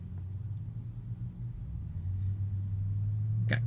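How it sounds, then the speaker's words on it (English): City street traffic at night as heard from inside a Tesla, a low muffled rumble of passing cars that grows slightly heavier, ending with a brief sharp click. "Got quite a bit of traffic here tonight."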